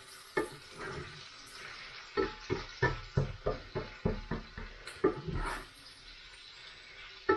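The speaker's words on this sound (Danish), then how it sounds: "vi skal jo bare sådan brunstege, vi skal jo ikke stege sådan helt sort i løg" Onions browning in olive oil in a pan give a steady sizzle, broken by a quick series of rhythmic scraping stirs through the middle, close and clear with no talk.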